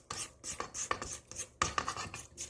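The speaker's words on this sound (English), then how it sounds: "You want to scrape down the sides of your bowl" Spatula scraping down the sides of a mixing bowl of molasses cookie dough, a series of short rasping strokes in uneven rhythm, close and fairly quiet, with no talking.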